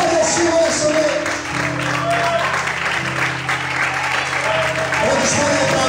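A church congregation claps in worship, a steady wash of hands under a sustained musical drone and a voice speaking over the top.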